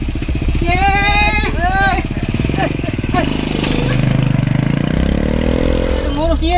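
Old motorcycle engine starting and revving, loud and close, a rapid pulsing putter that surges and falls, under people talking and calling out nearby.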